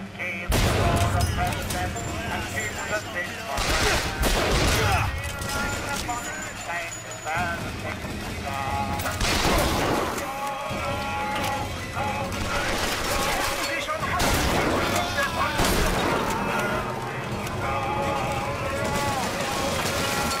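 Gunfire rattles through a BioShock Infinite firefight in repeated loud volleys and scattered bangs over a busy game soundscape, while someone talks over the shooting.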